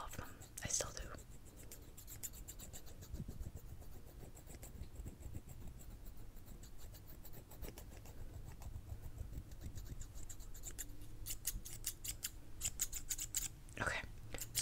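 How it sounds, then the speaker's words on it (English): A pair of scissors snips in close, crisp bursts during an ASMR sound test, with soft whispering between the cuts; the sharpest clusters of snips come near the start and toward the end. "So these are the first pair of scissors."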